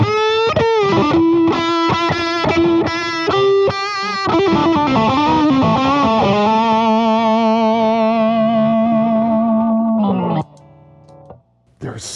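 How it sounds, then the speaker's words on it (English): A heavily distorted electric guitar, a Greg Koch Gristle 90 with both pickups on out of phase, plays a run of notes, then holds a long sustained chord with a thin, hollow tone before cutting off abruptly. "And with all this distortion, let's put both pickups on and get that out of phase thing happening."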